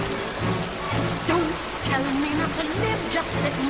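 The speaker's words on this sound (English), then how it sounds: "it's raining a little heavily" Heavy rain falls at night on a film shoot, a steady hiss and patter running throughout at moderate loudness, with music and faint voices mixed over it.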